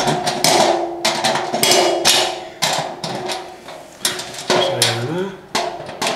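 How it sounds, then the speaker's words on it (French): Satellite dish mounting bolts are tightened with a 13 mm wrench, giving repeated loud metallic clinks and ratcheting taps in an irregular rhythm, close up, with a brief squeaky scrape partway through. "la clé de 13, c'est pour la fixation, là, les 4 boulons terminés"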